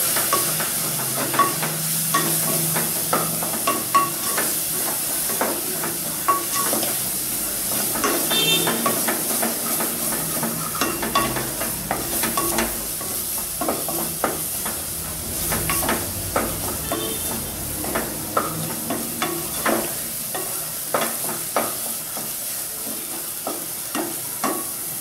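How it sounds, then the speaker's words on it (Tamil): Spices, coriander powder and sambar powder, sizzle and hiss in a hot pan for an elephant foot yam curry, with steady frying and repeated scraping stirs heard close up throughout, no talking. "இது எல்லாத்தையுமே இப்போ நல்லா வதக்கிக்கிறேன்."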